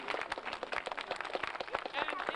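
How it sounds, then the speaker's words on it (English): Audience at a 1987 Pennsylvania Renaissance faire applauding an actor playing Queen Elizabeth, scattered claps crackling close and steady for a couple of seconds, fairly quiet overall. "You may applaud Her Majesty."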